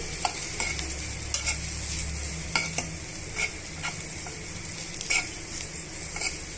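Chapati roll filling seasoned with pepper powder fries in a pan while a spoon stirs it, giving a steady close sizzle with frequent scraping strokes at an irregular rhythm and a low hum beneath.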